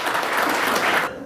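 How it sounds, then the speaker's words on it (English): A brief burst of audience applause after a presentation on energy efficiency, dense and moderately loud, cutting off abruptly at the end. "How about a round of applause?"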